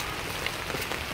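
Steady rain falls outdoors, a dense even hiss of drops striking surfaces, close and fairly loud throughout with no voices.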